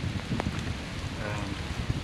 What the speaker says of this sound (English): It's been windy and thundering, and it was raining real lightly, but now it's coming down pretty hard